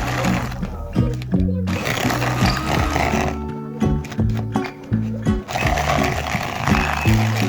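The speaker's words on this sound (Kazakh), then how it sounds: "Мінекей 2 минуттай осылай араластырып алдық." An electric mixer beats soft butter for zebra cookie dough, a close motor whir that rises and dips as it works the bowl, with a few brief pauses.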